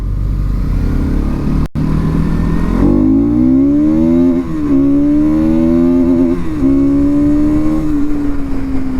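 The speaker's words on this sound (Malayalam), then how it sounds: "പിന്നെ ഇപ്പം നമുക്ക് വണ്ടി ഒന്ന് വലിപ്പിച്ചെടുത്ത് പവർ ഒന്ന് നോക്കാം." Bajaj NS200 motorcycle, 2024 model, on a test ride, its engine revving hard with a loud rising whine that climbs through the gears with brief dips between shifts, heard alone up close.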